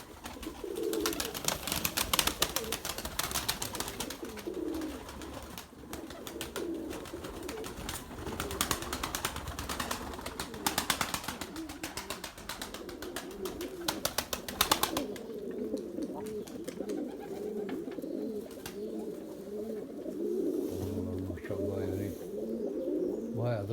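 Around 110 pigeons coo repeatedly in a low, throaty rhythm close by, with occasional wing flutters and people talking intermittently over them.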